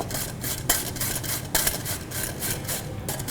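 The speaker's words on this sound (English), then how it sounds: "So let's take a piece of the pumpkin and you need to grate it." A piece of red pumpkin is rubbed against the coarse side of a grater in a kitchen, giving a close, steady rasping scrape with a few sharper strokes.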